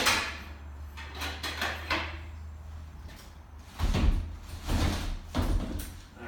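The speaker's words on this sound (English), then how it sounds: "Not uncommon for these sliding doors. There's wheels on them" A sliding door on wheels in a rental home rolls open and shut several times, each pass a rumbling slide ending in a soft knock, close and moderately loud over a low steady hum.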